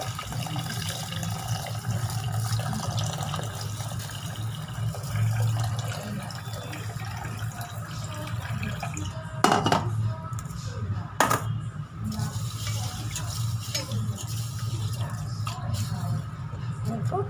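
Tap water running into a sink as horse gram is rinsed by hand, a steady close splashing wash with a couple of sharper clatters partway through.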